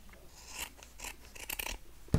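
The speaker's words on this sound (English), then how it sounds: "now we're going to cut this in half." Scissors snip through an oval fabric collar for a handmade Christmas caroler figure, giving a string of close, crisp rasping cuts with short pauses between, and no talking.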